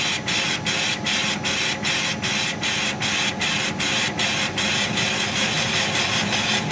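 A laser engraver burns an image as dots, giving a loud, harsh, steady buzzing rasp. It pulses in a quick, even rhythm as the head sweeps back and forth, close up with no voices.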